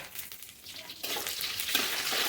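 Green chillies, dried red chilli and curry leaves hit hot oil in a pan with roasting peanuts, starting as a soft crackle before a louder, hissing sizzle takes over and continues steadily close by.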